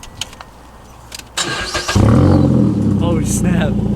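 A modified car's engine cranks briefly and catches, settling into a loud, steady rumble after some quiet background noise and faint voices.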